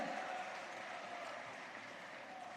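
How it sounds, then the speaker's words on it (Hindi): Audience applause welcoming JP Nadda at a political rally stage event in Rajasthan, a steady, dense wash of clapping from a large crowd that holds at an even level throughout without breaks. "ताली बजा के सब लोग नड्डा जी का स्वागत करें।"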